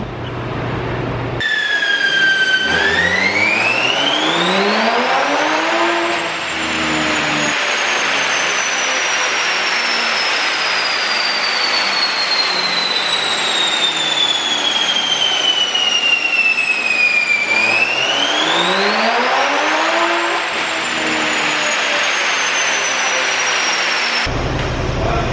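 A tuned 2020 Toyota Supra on a dyno runs three back-to-back pulls, the engine note sweeping steadily upward in pitch, dropping, then climbing again, loud and continuous with a drone beneath.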